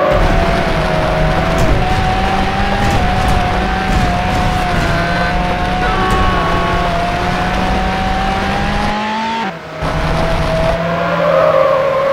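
A Ferrari 360 Spider racing in Need for Speed Hot Pursuit 2, its engine droning loud and steady with rising and falling pitch through gear changes, then a brief drop near the end before the roar resumes.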